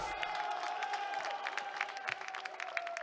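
A small live crowd at the UFC 257 press conference for Conor McGregor and Dustin Poirier keeps up continuous cheering and clapping with scattered whoops, a busy roar that stays loud the whole time.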